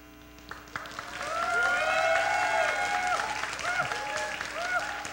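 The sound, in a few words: church congregation applauding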